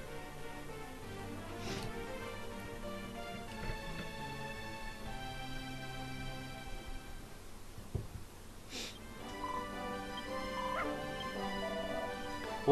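A tame dog in the video game Dragon Quest Builders 2 gives soft bow-wows, yips and whimpers, a few short calls spread over a steady background of game music.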